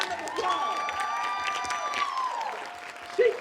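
Audience applause and cheering for Miss Janisha at a Women's Equality Day event, steady clapping from a crowd with whoops and shouts running throughout, tapering slightly near the end.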